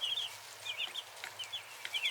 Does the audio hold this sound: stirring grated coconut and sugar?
no